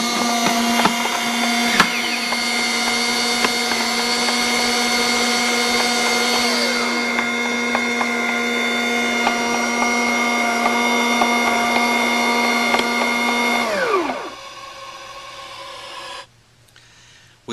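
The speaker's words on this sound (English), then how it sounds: "the noise from the servo motors while the camera is directly beside the box may seem a bit loud" Servo motors on a KS Audio AutoCurve line array adjusting the box angles, a close, steady whining hum with rising and falling tones that runs for about fourteen seconds before stopping, leaving quiet clicks.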